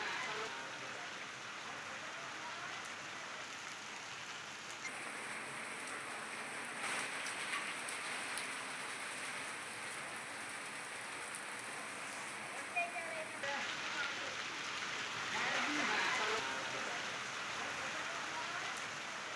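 Sudden unseasonal rain falls steadily, a continuous hiss of drops on surfaces that holds its level throughout with small swells, no voices heard.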